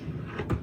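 A storage drawer holding spools of thread slides open or shut in a sewing room, a short soft wooden rumble peaking near the end of the brief moment, close and fairly quiet.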